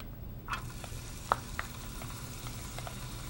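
Onions frying in a pan for a corned beef sauce give a steady, moderately loud sizzle, broken by a few sharp clinks and scrapes of a utensil stirring.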